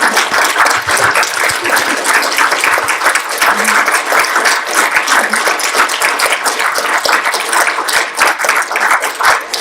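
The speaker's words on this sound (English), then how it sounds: "judging from the round of applause you've sustained" Loud, sustained audience clapping follows a talk at a kidney care patient and public involvement event, dense and even for nearly ten seconds, close and full, with no voices over it.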